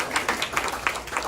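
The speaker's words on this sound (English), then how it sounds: "so a round of applause when he comes up." Brief burst of audience applause greeting a presenter at a talk, scattered claps of moderate loudness with a roomy crowd feel.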